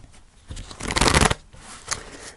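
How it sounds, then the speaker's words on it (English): Fairy oracle cards by Karen Kay being shuffled by hand, a brief riffling flurry that swells to a dense papery burst in the middle and trails off with a few softer slides, close and clear with no talking. "I'm going to pull you a fairy card"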